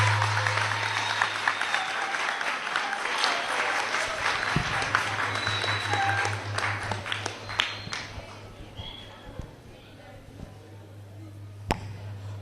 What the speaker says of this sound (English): another big round of applause to Musabe School